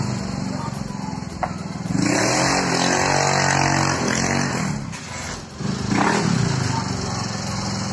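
A Honda Mio i 125 scooter with 59 mm bore and stage 1 cams revs noisily on a test ride, its engine buzzing and surging loudly while voices talk over it.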